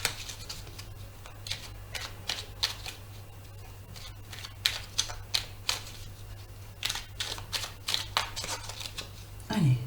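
A deck of fairy oracle cards is shuffled and cut by hand, giving a run of close, crisp riffling flutters and flicks that come in uneven bursts over a steady low hum.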